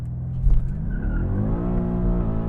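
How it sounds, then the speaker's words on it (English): BMW M8 Competition in rear-wheel-drive mode with traction control off, doing a burnout: the engine revs and holds a steady, rising drone while the tires spin, loud and close. "Let's see if we can do a burnout."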